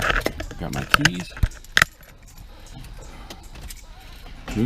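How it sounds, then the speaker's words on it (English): Keys jangle and clink close up in a garage in a few quick bursts, then settle into quiet background room noise. "Got my keys."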